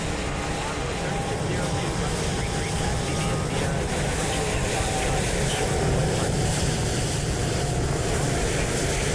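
Airliner taxiing in Microsoft Flight Simulator, heard as a steady, broadband jet engine roar with wind-like hiss that holds at an even, fairly loud level throughout without a break.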